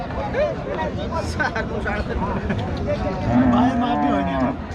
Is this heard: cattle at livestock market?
yes